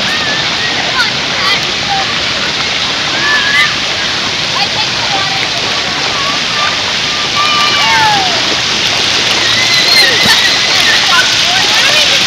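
The city park fountain at Frog Pond on Boston Common splashes in a dense, loud, unbroken wash of falling water, with people's voices and shouts scattered faintly through it.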